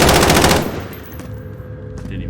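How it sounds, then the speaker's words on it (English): Rapid automatic gunfire in a shooter video game opens as a dense, loud burst, then drops away to a quieter lingering background. "Oh, someone's getting shot at."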